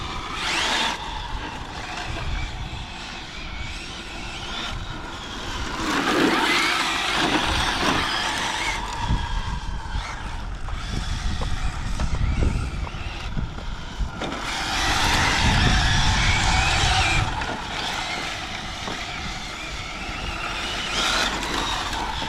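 Arrma Kraton 8S RC car with a Castle 2028 1100kv motor on 8S power tearing through speed runs, its high-pitched whine swelling and fading in repeated loud passes with tire and gravel noise between.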